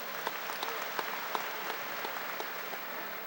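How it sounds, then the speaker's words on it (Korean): Delegates at a Grand National Party convention clapping for floor leader Kim Young-ho, a soft, distant, even patter of hall applause with a few sharper individual claps, no talk over it. "김영호 원내대표께 다시 한번 박수 부탁드립니다"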